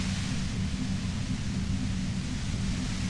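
Static white noise from the Disco Elysium video game: an even, continuous hiss with a low rumble beneath it, holding at the same level throughout with no speech.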